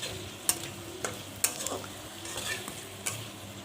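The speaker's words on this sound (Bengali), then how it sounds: "এবার মশলাটা দিয়ে বেশ খানিকক্ষণ ভালো করে কষিয়ে নেব।" Spice paste for rui fish curry stirs and fries in a little oil in a pan, a steady low sizzle broken by several sharp scrapes of the spoon, close and alone.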